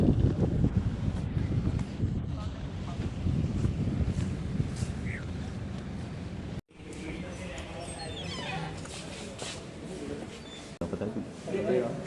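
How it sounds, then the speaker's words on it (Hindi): Strong wind blows outdoors on a university campus during a storm, making a continuous low rumbling buffet against the microphone, with people talking over it. "हवा चलने लगी।"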